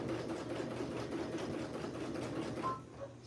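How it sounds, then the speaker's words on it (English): Sewing machine back stitching to reinforce straps, a loud, steady close mechanical whirr that runs almost without a break, then slows and stops near the end. "Back stitch. And we're going to carry on. Reinforcing those straps again."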